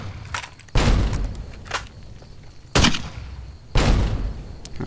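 Grenade explosions in Fallout New Vegas go off three times in a row, each a loud booming blast with a decaying rumble, over a low game background.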